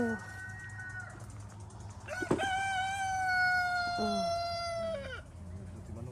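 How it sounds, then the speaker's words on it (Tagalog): A rooster crows nearby, one long drawn-out call rising then holding steady, with a brief exclamation from a person and faint outdoor background. "Yung manok. Tatalaok."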